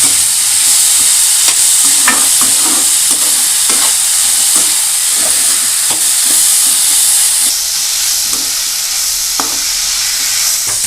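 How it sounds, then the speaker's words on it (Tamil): Tomatoes sauté in an oiled pan for a ridge gourd chutney, a loud steady sizzle close by with regular soft scrapes of a spatula stirring throughout. "நல்லா வதக்கிடுங்க தக்காளியை"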